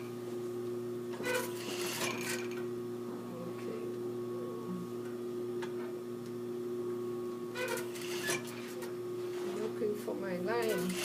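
A sewing machine runs steadily through fabric at a 2.5 stitch length along a quarter-inch seam, a continuous mechanical hum throughout with bursts of clatter, while someone talks over it.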